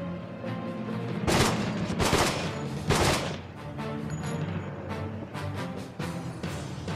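Russian guns fire in The Stalin Subway, a shooter set in real-world Russian locations, with dense bursts of gunfire and several louder volleys over a steady loud game background.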